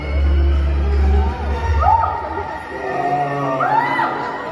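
A concert crowd at a show roars and cheers steadily, with scattered whoops rising above the live music. The noise is loud and continuous throughout.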